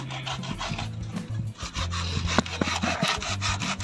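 A dull handsaw rasps through the wood of a dug-up water jasmine bonsai in steady, rhythmic back-and-forth strokes, close and fairly loud, with no talking.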